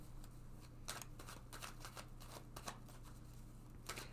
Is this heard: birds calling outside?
no